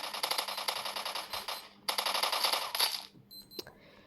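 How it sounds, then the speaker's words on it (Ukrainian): Gunfire in a shooting video game, rapid automatic bursts rattling off in two long strings, close and loud, followed by a few isolated shots and clicks, with no talking. "От тут ми зразу деяких стріляємо."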